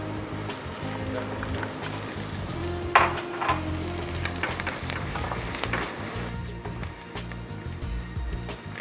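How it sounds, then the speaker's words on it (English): Red radicchio tossed in a hot pan with extra virgin olive oil for a risotto from northeast Italy, giving a steady close sizzle and frying crackle with stirring scrapes and a few sharper clatters. "And we start to toss our red radicchio."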